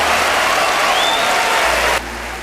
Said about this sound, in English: The crowd rises, standing ovation.